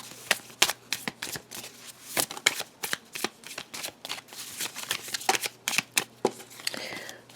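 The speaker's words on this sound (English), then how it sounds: "let me just shuffle these cards" Tarot cards being shuffled by hand in a long run of crisp riffles and flutters, close-up, quick irregular bursts of papery snaps repeating throughout.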